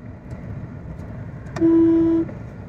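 Traffic heard from inside a moving car: a steady low road rumble throughout, broken midway by a single horn blast lasting about half a second, with no talking.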